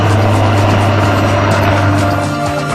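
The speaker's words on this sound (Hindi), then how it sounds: "इधर हेलीकॉप्टर उड़े, उधर पाक की सांसें अटकी।" Military helicopters fly over an army exercise, a steady loud rotor drone with strong low hum holding throughout, no voices.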